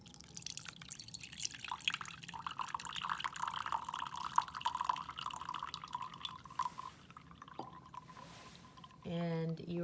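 A salt and sugar mixture is poured into a homemade filtration system, producing soft trickling and dripping sounds that run close and faint throughout, with a brief louder clatter at the end.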